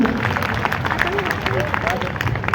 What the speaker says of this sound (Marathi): ज्या माणसामुळे मी इथं आलोय सन्माननीय करवाई सरांसाठी एकदा जोरदार टाळ्या होत्या.